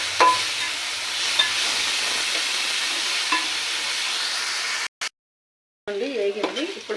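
Spice paste for a fish curry frying in a pan, giving a steady close sizzle and crackle with faint stirring scrapes for about five seconds before a brief drop to silence and a short burst of noisy clatter.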